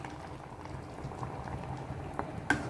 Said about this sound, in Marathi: फणसाची घशी, फणसाची करी छान उकळते आहे